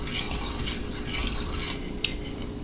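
A spoon keeps stirring a salted potato salad mixture in a pot, a continuous soft scraping and swishing with one sharp metallic clink near the end.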